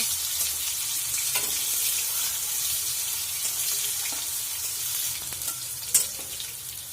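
Ridge gourd sabji fries in oil in a pan, a steady soft sizzle with occasional spatula scrapes and one sharper clink near the end.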